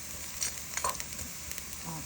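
Pieces of meat sizzle and fry in a pot as rice is being made, a steady close crackle with small spits and stirring clinks.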